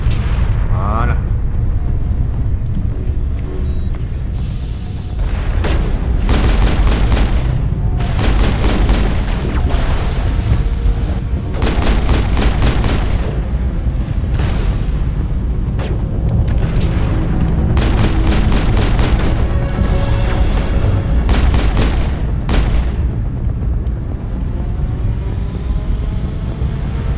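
Repeated bursts of shotgun gunfire and booming explosions ring out during a Mass Effect firefight, loud and scattered over about half a minute beneath continuous game sounds and talk.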